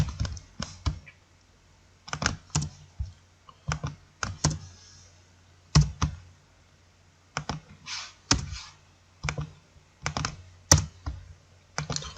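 Keys clatter on a computer keyboard while coding Java, including a Ctrl+Space press, in close, crisp bursts of several clicks separated by short pauses in a quiet room.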